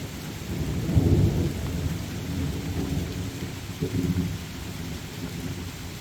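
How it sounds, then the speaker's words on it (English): Thunderstorm over a summer Scottish country dance camp, with deep rolling thunder swelling near the start and again later over a steady hiss of falling rain, and no voices. "The rain's come on, which is needed"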